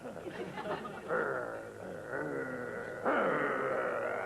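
A voice mimics a dog growling in a low, rough, sustained grumble that swells in two or three drawn-out surges, heard close and alone.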